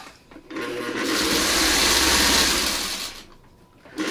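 A sewing machine stitching fabric pieces together for a wrench-shaped sewn project, running in one steady, loud whirring burst of about two and a half seconds, starting and stopping cleanly.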